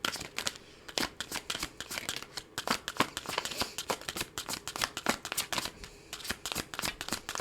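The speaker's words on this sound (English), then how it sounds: "If you don't like the shuffling, you can always fast forward a little bit." Tarot cards shuffled by hand in a rapid, uneven run of crisp riffles and flicks, close and fairly quiet, carrying on without pause and with no one speaking.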